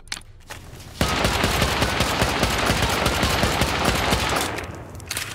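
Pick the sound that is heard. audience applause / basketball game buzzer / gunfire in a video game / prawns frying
gunfire in a video game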